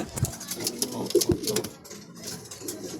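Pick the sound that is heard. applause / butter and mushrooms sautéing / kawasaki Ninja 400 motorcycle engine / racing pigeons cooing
racing pigeons cooing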